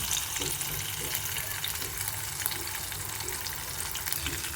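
Dried red chilies fry in hot oil, a steady close crackling sizzle with soft popping, fairly quiet and continuous with no talking.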